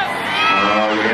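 Spectators at a jousting show at the Lincolnshire Show roaring and cheering together in one loud, close, brief burst of mixed voices and shouts.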